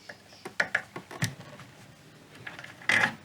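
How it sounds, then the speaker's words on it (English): Small screws are undone and knobs removed from a 1960s Garrard 1000 turntable chassis, giving a quick series of close, light metallic ticks and clicks, with a louder scraping rattle near the end. "so I'll undo the screws and take them off"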